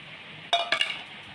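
A spoon clinks and scrapes against a bowl while water is mixed into palm cake batter: a few quick, close metallic knocks after a quiet start, then softer stirring clatter.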